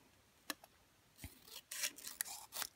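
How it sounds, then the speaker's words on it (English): Scissors snip through a stamped Post-it note, cutting out a small paper mask for card making: a few sharp, close clicks and a stretch of rapid snipping, quiet and without talk. "I'm going to cut this out, and I probably will cut it out even a little closer"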